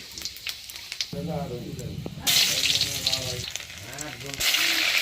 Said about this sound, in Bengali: পাঁচ ফোড়নটা চিরবিড়িয়ে ফুটে উঠলে তারপরে কিন্তু দিয়ে দিচ্ছি এক টেবিল চামচ পরিমাণ খেতো করা আদা আর দুটো শুকনো লঙ্কা